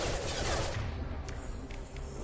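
Gunfire in the video game Mass Effect 2 crackles in a brief rapid burst, then trails into a few scattered sharper shots, fairly quiet overall.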